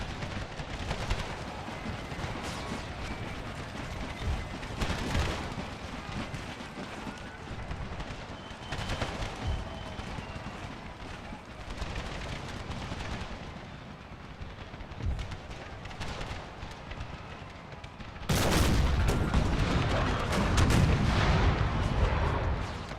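Howitzer artillery in Empire: Total War battle, a dense barrage of booming cannon shots and crackling gunfire rolling continuously, with a louder, heavier burst of fire near the end.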